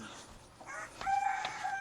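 A rooster crows once in a short burst, with a hen clucking nearby against a quiet outdoor background.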